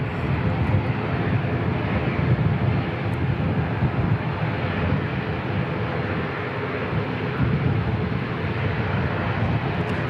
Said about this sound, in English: We've also got another ATR on short finals coming from Palmy North